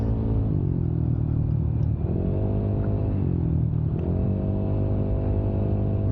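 A Yamaha Nmax 232cc scooter engine, tuned by a mechanic, runs on a night ride with a steady close rumble and rhythmic rising and falling revs, loud and continuous with no voices.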